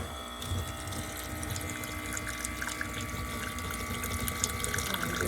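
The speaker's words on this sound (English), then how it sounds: "So let's turn on the little tap, see what we got." Water runs from a small, newly installed sink tap in a tiny cabin into a gray water bucket, a steady faint stream with a low pump hum beneath it.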